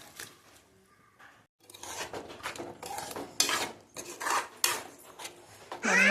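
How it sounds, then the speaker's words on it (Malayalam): A spoon stirs pressure-cooked squid into sautéed onions in a cooking pan, giving repeated close scraping and rubbing strokes in an uneven rhythm, louder toward the end. "നന്നായി ഇളക്കി കൊടുക്കുക."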